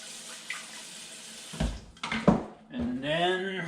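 Water pours and splashes into a cooking pot while making kare-kare, a soft running gush with a few clinks, and a voice speaks briefly near the end.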